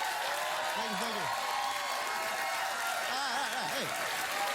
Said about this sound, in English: Getting a standing ovation.